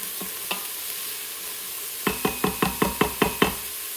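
Vegetables softening in a soup pot while a spoon stirs them, a few scattered knocks followed by a quick run of about eight evenly spaced scrapes and taps against the pot over a faint sizzle.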